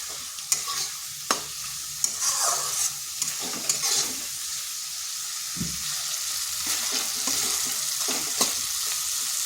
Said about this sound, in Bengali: মশলাটা বেশ কিছুক্ষণ কষে নিচ্ছি।